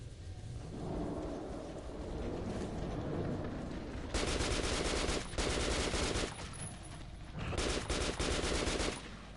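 Sustained automatic gunfire with incendiary rounds in Metro 2033 Redux, loud bursts of rapid shots in three long volleys over a rumbling background, with no talking.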